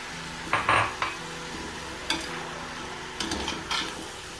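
Prawns go into a pan of seafood fried rice, giving a few clanks of utensil on metal and short bursts of stirring and scraping over a low steady sizzle.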